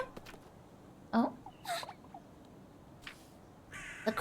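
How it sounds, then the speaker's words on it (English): Several crows cawing in the video game Little Goody Two Shoes, harsh separate calls spread across a few seconds, fairly close and clear with no talk over them. "Oh, there's so many crows."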